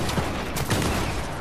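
Bursts of rapid gunfire in the video game Fortnite during a squad match, dense overlapping shots across a short stretch, loud and close with no talking.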